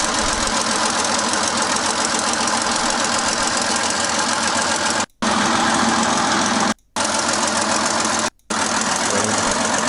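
Twin diesel engines of an M4 Sherman tank idling in a video game, a loud, steady, knocking rumble that drops out abruptly three times in the second half.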